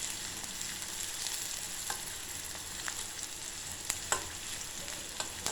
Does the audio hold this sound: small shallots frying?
yes